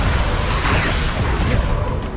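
An Incendio fire spell cast in Hogwarts Legacy gives a loud, dense whooshing roar that swells and fades over about two seconds.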